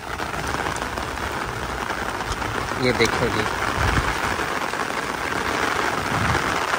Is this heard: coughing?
no